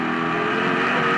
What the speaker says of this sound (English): you can really hear that car spin the tires off the corner